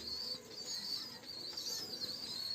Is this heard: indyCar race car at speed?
no